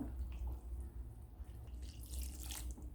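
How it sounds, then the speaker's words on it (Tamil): Hot water poured into a pot while cooking a traditional breakfast dish, a quiet, steady trickling and splashing with low rumbling background and no talk. "சூடான தண்ணியாக சேர்த்துக்கலாம்"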